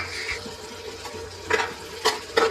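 Mint paste stirred into chicken biryani masala in a home kitchen: a quiet, wet, scraping stir with a soft sizzle underneath and a few sharper clinks of the spoon toward the end.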